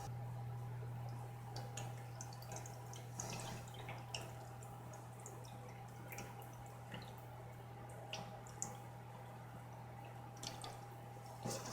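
Kerosene dripping and trickling as sediment is rinsed from a fuel container, scattered faint drips over a steady low hum, close by with no voices.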